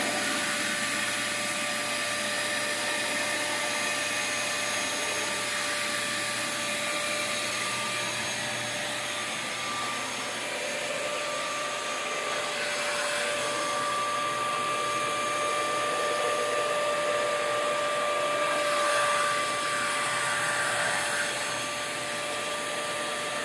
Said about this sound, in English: If you have one of these vacuums, you hear this? That means you're letting water, you're letting air in